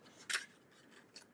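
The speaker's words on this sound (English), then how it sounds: "then cut with my scissors to get into the center" Scissors snip through a paper hexagon template for a mug rug, with one crisp close cut followed by a fainter second snip over a quiet room, no voices.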